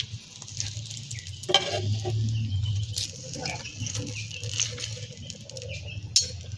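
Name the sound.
cheese balls frying in oil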